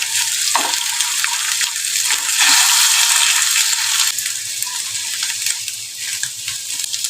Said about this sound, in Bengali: এবার একটুখানি নেড়ে দিলেই ভুজিয়া মতো হবে